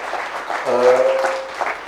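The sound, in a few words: audience applause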